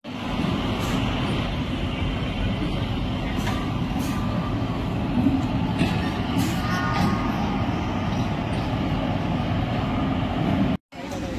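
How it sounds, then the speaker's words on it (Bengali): A crowded passenger train pulls out of Howrah station, a loud, steady rumbling roar that fills the whole stretch, with faint voices mixed into the din. "হাওড়া থেকে 7:50 ছেড়ে দিল ট্রেন।"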